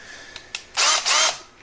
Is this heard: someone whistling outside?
no